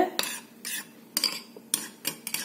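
A spoon clinks and scrapes against a bowl while pizza sauce seasoned with salt, pepper, sugar and oil is stirred, giving several sharp, close metallic taps in an uneven rhythm.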